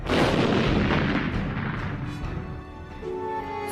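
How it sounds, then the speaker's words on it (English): Rapid artillery fire from a Korean War bombardment, with booming shell launches and blasts rolling together into a continuous loud, rumbling barrage with no voices. "Teams of troops operated an assembly line of ammunition, sending an endless succession of shells airborne."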